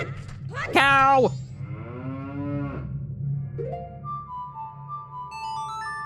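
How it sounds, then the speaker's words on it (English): In Majora's Mask 3D, a cow moos in a drawn-out, falling call, then lets out a second shorter low moo. Game music and a steady hum continue beneath, and chiming tones follow. "Cow!"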